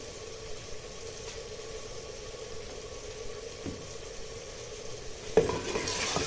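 Spices such as red chili and turmeric are stirred into a sand grouse curry in a pan: a steady, low sizzle with soft scraping runs throughout, then a louder clatter and brighter hiss near the end.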